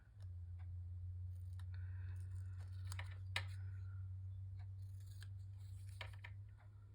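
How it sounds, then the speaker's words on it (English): Scissors trim paper for a craft project in a quiet room, a scattering of soft, close snips and clicks over a low steady hum. "Trim around this a little closer."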